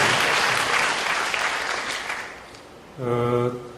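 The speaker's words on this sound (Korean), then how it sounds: "무슨 뜻인지 아셨으면 박수 치셔야 됩니다." Audience applause at a book concert, a broad wash of clapping that fills the hall, fades over a few seconds, then a brief pause before a sustained tonal sound with a clear pitch briefly rises.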